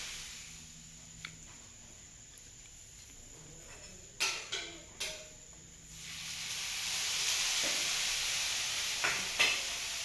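Dhapate, a spiced Maharashtrian flatbread, roasting on a hot pan with steady sizzling and hiss that rises and grows louder after a few soft tapping clicks, with no talk.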